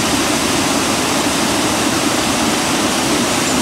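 A waterfall pours steadily in a forest, its broad, dense roar loud and close, filling the whole stretch without a break and with no voices over it.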